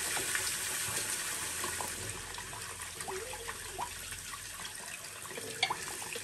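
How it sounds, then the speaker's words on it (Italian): Running tap water splashes steadily as a face is rinsed at a sink after a New Year's Eve shave, a continuous close splashing wash with small irregular spatters and no talking. "e adesso sciacquiamo"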